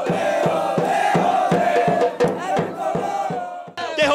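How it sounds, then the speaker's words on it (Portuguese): Paysandu football supporters chant in unison in a stadium, a loud massed chorus with a steady pulsing rhythm and periodic sharp beats, heard close and full with no separate talk. "os torcedores do Paysandu, que esteve tímido no primeiro tempo, mostraram muita música e confiança no time paraense"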